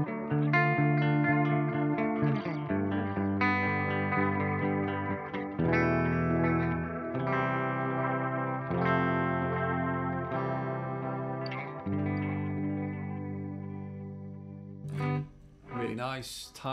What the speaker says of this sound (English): So reels is named after a tape reel, so tape echo is what we're talking about now.